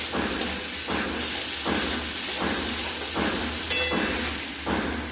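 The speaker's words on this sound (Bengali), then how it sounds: "মশলাটা প্রায় কষা হয়ে গেছে ওটাকে আমরা দিয়ে দেব ভেজে রাখা আলু আর পটল দিয়ে এটাকে ভালো মতো করে আমরা কষবো" Spice paste sautéed with fried potatoes and pointed gourd in a hot pan, a steady loud hiss of sizzling oil broken by regular scraping stirs of the spatula, close up and without speech.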